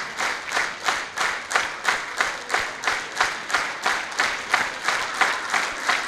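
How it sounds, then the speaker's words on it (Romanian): An audience at a folk music show on Romania's National Day in Sighișoara applauds in steady rhythmic unison, a moderately loud sustained wash of clapping pulsing evenly throughout with no voices over it. "Răspunsul, un ocean de iubire și de aplauze."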